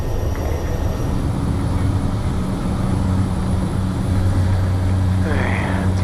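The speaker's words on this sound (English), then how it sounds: "this is going to be a rolling takeoff" A bush plane's propeller engine drones loud and steady from inside the cabin during a rolling takeoff in Namibia, with a constant low hum and rising tone toward the end.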